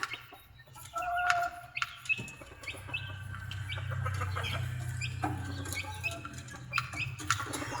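Chickens and roosters in a backyard farm yard cluck and call repeatedly at close range, with scattered scratching and pattering and a low background rumble throughout.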